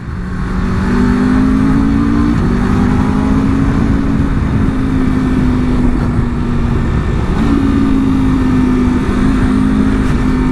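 A 2026 Aprilia RSV4 superbike, its engine recently replaced, rides over bumpy roads. The engine holds a steady mid-pitched drone with slight rises and falls in revs, close and loud over constant wind rush.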